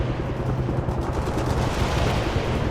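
Heavy attack gunfire and explosions in the Soviet campaign of the real-time strategy game World in Conflict form a dense, continuous roar of rapid booming bursts with no break.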